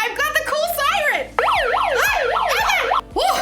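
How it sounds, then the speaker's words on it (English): A toy siren blares loudly, its electronic tone rising and falling in quick repeated wails, broken by brief pauses and restarting several times. "I've got the cool siren!"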